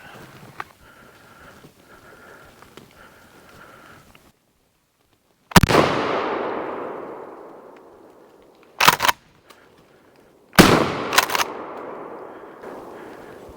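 Sharp, loud gunshots from a squirrel hunt on public land in Mississippi: a single blast with a long decaying echo through the woods, then two more close-spaced shots a few seconds later, after a quiet stretch of outdoor ambience.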